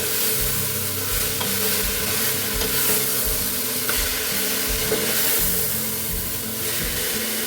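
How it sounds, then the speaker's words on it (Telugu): A tomato, garlic and onion mixture fries in a pan, a steady close sizzle with a spoon scraping and stirring through it in an uneven rhythm, continuous and without speech. "ఇలా ఒకసారి కలుపుకొని ఒక రెండు నిమిషాలు ఫ్రై చేసుకోవాలి"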